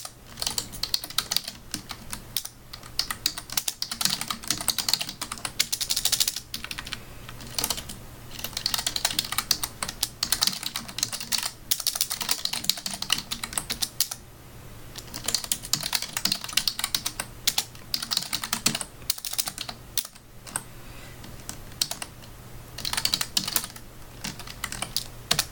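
Code is typed on a computer keyboard in long, fast bursts of close, crisp key clicks, with brief pauses between runs, continuing steadily for about twenty-five seconds with no talking.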